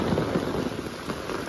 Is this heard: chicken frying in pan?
no